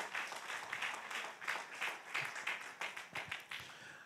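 A church congregation at a sermon claps together in a lively, fairly distant burst of applause, with individual hand claps standing out in an uneven rhythm that fades toward the end.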